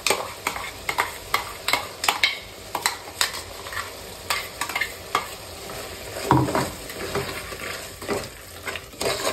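Chicken pieces fry in oil while ground masala paste is stirred through them, giving a steady sizzle broken by regular scraping stir strokes close by, with a heavier burst of scraping partway through.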